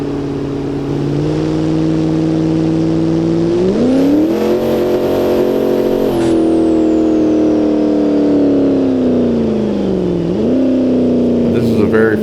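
Dodge Dakota R/T pickup truck at a drag race, its engine droning loudly and close, rising in pitch twice as it revs before settling back, with a high whine and talk over it.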